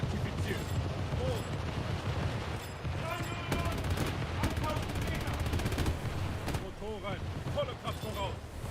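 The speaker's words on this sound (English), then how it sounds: "I am a fanboy of the Japanese 100mm guns." Japanese 100mm naval guns on the destroyer Akazuki in World of Warships fire in rapid, uneven bursts of sharp reports over a steady low rumble, with faint talk underneath.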